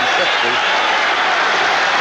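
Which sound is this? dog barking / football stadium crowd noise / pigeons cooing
football stadium crowd noise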